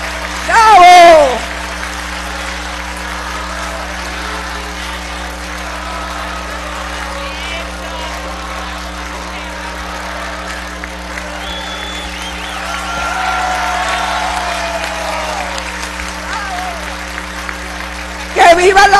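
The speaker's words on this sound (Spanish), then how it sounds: "Un aplauso para el ejemplo de dignidad." Sustained applause fills the chamber of Venezuela's National Assembly in tribute to a member turning 90, a long, steady rumble of clapping that swells midway, with brief voices at the edges and a constant electrical hum.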